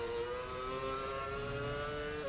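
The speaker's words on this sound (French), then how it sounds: "Au niveau des sons moteurs, je crois qu'il n'y a pas de différence avec la Toro Rosso." A Formula 1 car engine in the PS3 racing game F1 Championship Edition whines at a steady high pitch, holding a smooth sustained tone with a slight shift near the end.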